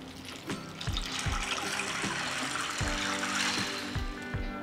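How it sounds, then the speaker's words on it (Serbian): Cold water pours into a bowl of dry mixed beans, a steady close rushing splash with faint clinks of beans against the bowl, continuous for several seconds without any speech. "Pasulj ću preliti sa hladnom vodom."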